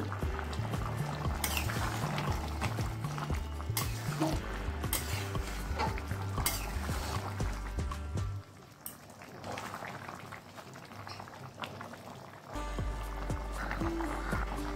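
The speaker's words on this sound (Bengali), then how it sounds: "পাঁচ মিনিট ঘুগনিটাকে রান্না করে নিলাম।" Ghugni pea curry cooked with goat fat simmering in a pot, a steady dense bubbling and stirring texture with clinks of a utensil, loud and close throughout with a brief softer dip midway.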